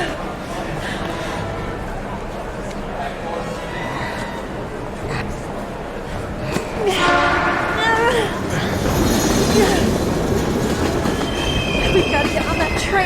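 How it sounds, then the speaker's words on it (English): In the video game Heavy Rain, a train rumbles past with clattering wheels and metallic squeals, louder and harsher in the second half as the cars go by close. "We've got to get on that train, Ethan. It's our only chance."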